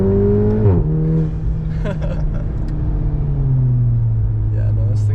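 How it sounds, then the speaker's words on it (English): VW Golf R engine as it downshifts, revs blipping up and dropping through gears, then a steady low drone inside the car, with people talking over it. "This thing sounds awesome when it downshifts."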